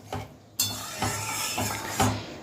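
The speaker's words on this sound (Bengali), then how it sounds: "মুসুর ডাল দিয়ে ভালো করে মিশিয়ে নিলাম।" A spoon scrapes and clinks against a cooking pot in a few separate strokes while masoor dal with ridge gourd is stirred in, close and moderately loud, with no voices.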